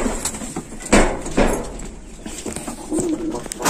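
Soft pigeon coos sound close by in an enclosed loft, mixed with rustling, shuffling and a few light knocks.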